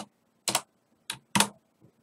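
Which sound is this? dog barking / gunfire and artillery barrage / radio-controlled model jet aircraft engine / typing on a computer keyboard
typing on a computer keyboard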